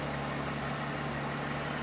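A 2024 Ferrari Purosangue's 6.5-litre V12 idling, a steady low hum with constant even vibration and no revving, close and alone without talk.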